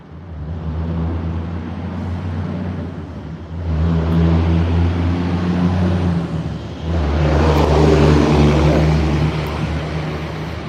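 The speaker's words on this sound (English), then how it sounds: "Some loud diesels out there." Heavy diesel engines rumble loudly near a fishing spot, a low droning roar that swells in two waves as the vehicles pass, steady and close with no talk.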